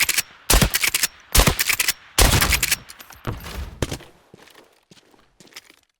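Five heavy gunshots from a new weapon in the shooter game Arena Breakout Infinite, fired in quick bursts at close range, followed by quieter scattered clicks and faint footsteps.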